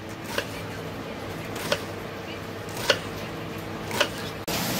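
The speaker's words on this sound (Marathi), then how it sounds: "ही अशी एकत्र पानं रोल करून घेतले आणि अशी करून बारीक अशी कापून घेऊया" Knife slicing through rolled colocasia (alu) leaves on a board for alu vadi, giving four sparse, evenly spaced sharp cuts over a steady background hiss, close and fairly quiet.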